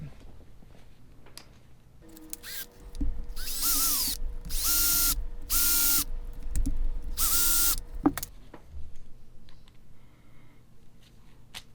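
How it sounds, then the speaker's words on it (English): An electric drill whirs in four or five short bursts as screws are driven during an Axial SCX10 II differential rebuild, with quiet workshop sounds and faint clicks before and after. "run them 3/4 of the way in with the drill"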